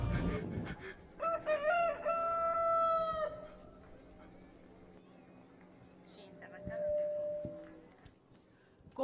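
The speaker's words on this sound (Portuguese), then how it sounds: "Em verdade, te digo, Pedro, não cantará o galo até que me negues três vezes." A rooster crows loudly in one long cock-a-doodle-doo at an outdoor Passion of Christ play in Taboão da Serra, followed by quieter tones and background sounds, with speech nearby.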